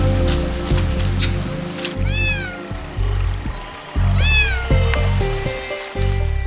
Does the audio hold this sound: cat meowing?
yes